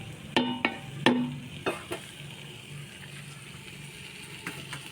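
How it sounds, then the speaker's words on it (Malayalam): A spoon scrapes and stirs thick tomato masala paste cooked down in a pan, several sharp metallic scrapes early on and then a softer steady sizzle, close and clear with no talking. "അത് നല്ലോണം ചട്ടം വെച്ചിട്ട് ഇളക്കിയെടുക്കുക."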